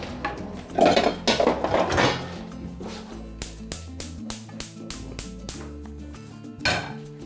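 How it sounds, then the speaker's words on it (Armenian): Metal frying pan set onto a gas stove, a run of clanks and knocks of cookware against the burner grate, several sharp close hits in a loose rhythm, no speech. "Տապակը հայտնվում է գազօջախին"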